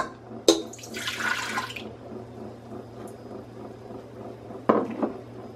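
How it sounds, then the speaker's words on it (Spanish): Milk poured from a cup into a bread machine pan, a brief soft liquid splash near the start with light clinks of the container, then quiet kitchen background and another short knock near the end. "Voy a agregar la taza de leche."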